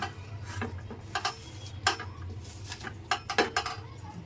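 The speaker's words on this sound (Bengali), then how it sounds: "তারপর পেঁয়াজগুলো এখন লবণের সঙ্গে এগুলোর সঙ্গে চটকে একটু নরম করে নেব।" Chopped onions are mashed by hand with salt and chilies in a bowl, giving soft irregular squelches, taps and clinks against the bowl, close and fairly quiet, with no voices.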